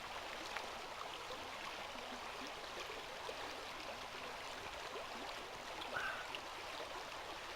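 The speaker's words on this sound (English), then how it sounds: "hope you can hear me alright over the river." A flowing river gives off a faint, steady rushing murmur outdoors at a riverside camp, an even background wash with no voices.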